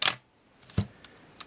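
Minolta X-570 film camera shutter firing at fast speeds: one sharp, close mechanical snap at the start, then a softer clunk and two faint ticks after a short pause, with no talking.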